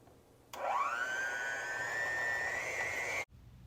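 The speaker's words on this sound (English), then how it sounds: "we're going to use an electric mixer and mix this together" An electric hand mixer whirs to life beating organic cane sugar mixture, a steady high motor whine rising in pitch then holding for under three seconds before cutting off abruptly, close and alone.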